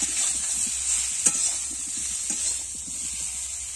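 Young jackfruit pieces fry in a pan with salt and turmeric, giving a steady close sizzle with stirring scrapes and a sharp clack near the middle, no voices.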